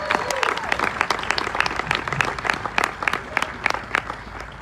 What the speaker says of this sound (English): it would make me super fucking happy if everybody clapped it up for each other